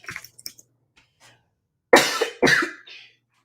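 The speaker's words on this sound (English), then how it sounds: "I have to cough, but I have to type at the same time." A person coughs twice, loud and close, after a few soft clicks of typing, then a short breathy trailing sound.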